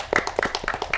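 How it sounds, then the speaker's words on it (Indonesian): A crowd at a campus event clapping, with a quick run of overlapping claps over about a second, loud and close. "Tepuk tangan dulu."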